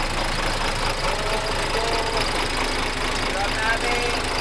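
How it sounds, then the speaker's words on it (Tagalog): A freshly overhauled diesel engine running, a dense continuous rumbling roar with a knocking texture, loud and close, holding steady throughout without letting up. "Napandar na tayo sa makina."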